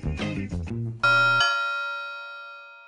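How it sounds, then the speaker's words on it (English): A home doorbell rings once: a short chiming melody followed by a bright two-tone ding that rings out and slowly fades into silence. "I could use my home doorbell as a sound effect in my musical IDs"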